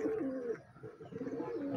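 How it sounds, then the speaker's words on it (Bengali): Pigeons coo close by in a repeated, rolling rhythm while some of the flock feed outdoors under a lightly cloudy sky, with no talking. "সবজি কবুতর আছে আর কিছু কবুতর এখানে খাবার খাইতেছে"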